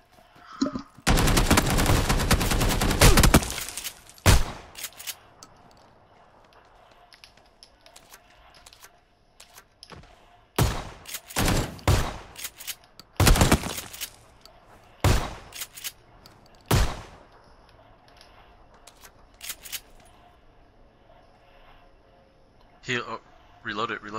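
Gunfire in PUBG, a dense burst of rapid automatic shots followed by scattered single and clustered shots, loud and close, with players talking between the volleys.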